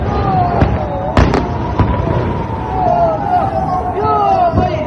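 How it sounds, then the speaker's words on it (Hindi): Cluster bomb munitions bursting during a war strike, heard as a few sharp distant blasts over a continuous din of crowd noise, sirens and talk. "ये देखिए ये क्लस्टर बम के हैं।"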